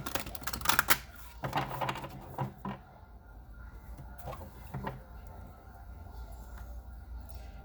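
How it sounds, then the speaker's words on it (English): Rapid riffling bursts of tarot cards being shuffled up close, two or three quick flurries early on, then quieter scattered taps and handling. "One more shuffle."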